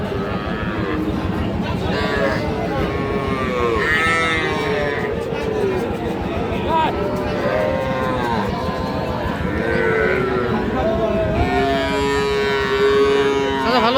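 Loud, repeated cattle moos, long and drawn out, from small bulls and heifer calves at a cattle market in Raniganj, rise over a busy crowd of people talking nearby.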